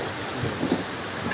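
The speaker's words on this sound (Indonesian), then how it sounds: "Hujan di sini, hujan." Steady rain falls on a rural road during the monsoon season in an oil palm area, a continuous even hiss with a slight swell midway and no voices.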